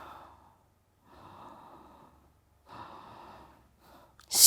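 A deep, full breath in a slow-flow yoga class. It comes as several long, soft inhales and exhales, close and quiet. A sharper, louder breath sound ends it.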